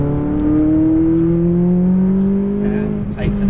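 A McLaren 570S at full throttle on a Las Vegas racetrack, its engine note steady and loud, rising slightly across the run before a short dip near the end, with wind and road roar underneath.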